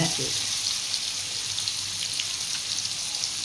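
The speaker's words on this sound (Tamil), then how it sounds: "இது பொரிக்கிறோம்" Fish fries in oil close by, sizzling and crackling steadily, a continuous bright hiss with occasional pops.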